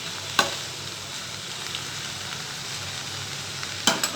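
Okra stir-frying in a pan, a continuous soft sizzle with two sharp spatula scrapes near the start and end, no talking.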